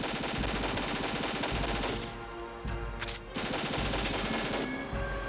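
Sustained machine-gun fire in Metal Gear Solid 2, heavy and continuous with a couple of short breaks, together with the blast of a missile, dense and moderately loud throughout.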